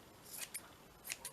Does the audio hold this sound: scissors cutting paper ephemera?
yes